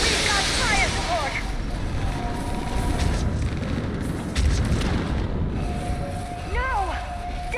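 In Mass Effect 3, heavy artillery booms and rumbling explosions roll through a dense battle din on Thessia, with whistling projectiles, layered effects and voices over the chaos.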